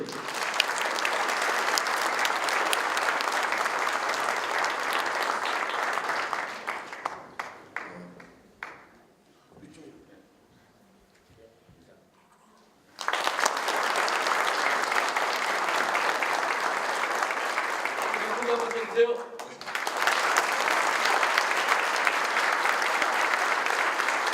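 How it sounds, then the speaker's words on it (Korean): Loud, sustained applause from a ceremony audience honoring senior members of an appraisal firm, fading to near silence for several seconds before a second strong round of clapping resumes and continues to the end. "박수 한번 주십시오"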